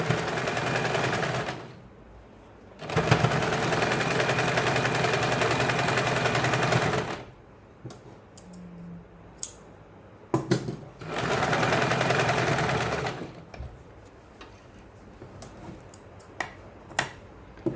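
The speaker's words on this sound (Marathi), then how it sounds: "नंतर आपण याच्या साईडने आपण 1/4 इंच सोडून याला डबल शिलाई मारणार आहोत." A sewing machine runs a double seam on a blouse in three steady, close stitching runs of a few seconds each, the rapid mechanical whir separated by quieter pauses with clicks and fabric handling.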